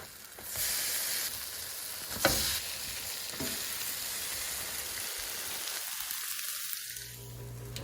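Savoury herb and Gouda French toast fries in a hot pan with a continuous close sizzle, broken by a couple of brief sharp knocks as slices are flipped, then the hiss eases slightly near the end.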